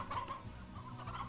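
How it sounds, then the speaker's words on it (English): Cartoonish chicken clucking from the farming game Slime Rancher, a short burst of a few quick clucks at moderate level over faint game background. "I just heard that chicken get eaten"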